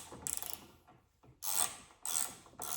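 Ratchet wrench snugging a bolt on a 1968 Malibu project car, with short bursts of rapid close clicking separated by pauses, fairly quiet and with no talking.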